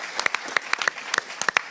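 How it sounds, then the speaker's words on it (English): A round of applause for two candidates at a community board plenary meeting: a short burst of sparse, crisp hand claps from a modest audience, with distinct individual claps rather than a dense roar. "Let's give them both a round of applause"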